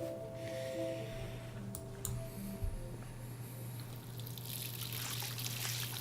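Water runs steadily in the video game Life is Strange, a soft continuous hiss and trickle that holds evenly throughout, with a faint tick or two and no talking.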